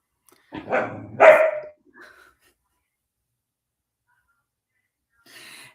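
A dog barks close by in two quick loud bursts, followed by a soft short yelp and, after a long silence, a faint rustle at the end.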